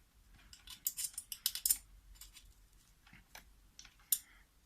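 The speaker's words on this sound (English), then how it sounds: "Let me just get these tightened up quickly." A tool tightening screws on an RC car brake assembly for a Baja 5B/5T, a series of quiet close metallic clicks and small ratcheting ticks in bursts with pauses between.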